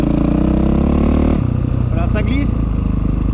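A motorcycle fitted with a Rekluse Radius CX automatic clutch pulls away in third gear, its engine droning loud and close with a shift in tone partway through, while a voice speaks over it.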